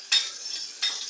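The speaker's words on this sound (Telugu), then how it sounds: "వీటిని మంచిగా ఫ్రై చేసుకుందాం." A spoon scrapes twice through ridge gourd frying in a clay pot, each stroke a close, bright, hissing scrape over a soft sizzle.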